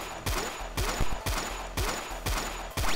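Video game gunfire in Fighter of Evil, firing at a bat: sharp repeated shots in bursts roughly every half second, loud and close, over a steady game background tone.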